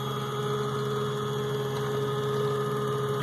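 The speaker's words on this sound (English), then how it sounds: "the router's running at 150 inch per minute" A DIY CNC router runs at 150 inches per minute, giving a steady, even motor hum and whine that holds constant throughout, close by, with no talking.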